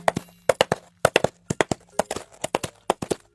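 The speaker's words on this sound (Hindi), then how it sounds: "क्योंकि असल में ये तो नारियल के छिलके की आवाज है" Coconut shells knocked together as horse hoof foley, sharp hollow clip-clops in a regular trotting rhythm of paired beats, close and dry with silence between.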